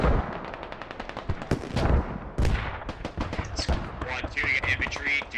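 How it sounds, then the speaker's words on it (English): Machine gun fire in the tactical shooter Squad rattles in rapid bursts, loud and sustained, with sharp gunshot cracks and some distant shots. "they're just being picked off by an MG off to the southwest"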